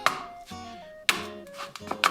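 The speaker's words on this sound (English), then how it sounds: "so I'm just using my antique adze here." Repeated sharp thuds of an antique adze chopping into wood, a few strikes spaced about a second apart, close and crisp.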